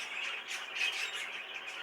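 A bird near a cage gives harsh, continuous squawking that rises and falls in short bursts, close and fairly loud with no other sounds.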